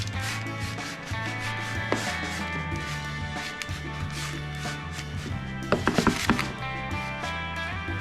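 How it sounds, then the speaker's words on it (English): Toasted oats being spread across a metal sheet pan, a steady dry rubbing and scraping with a few sharper clinks, heard close and continuous over a low background hum. "Dump that onto a sheet pan or a baking sheet. Spread that out as evenly as you can."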